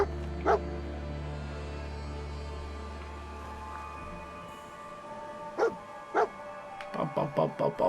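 Dogmeat, the dog companion in the video game Fallout 4, gives a couple of isolated barks and a whimper over a steady low game hum, then a quick run of sharp barks near the end.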